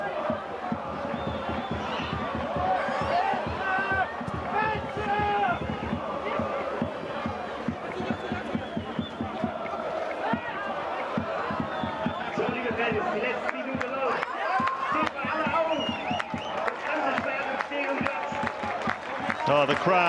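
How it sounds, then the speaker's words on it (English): A sellout stadium crowd at a UEFA Youth League football match between Hoffenheim and Real Madrid roars and cheers steadily throughout, with scattered clapping and chanting and a commentator talking over it. "Oh, the crowd, the sellout crowd have enjoyed every moment of it"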